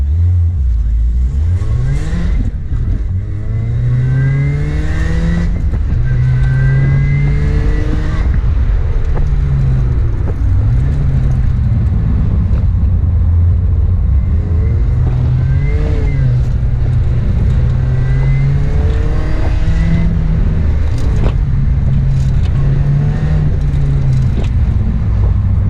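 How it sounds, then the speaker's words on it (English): Car driving hard on a race track during a track day, the engine revving up and down through repeated acceleration and gear changes, loud and close throughout. "show you what this car was like on the track"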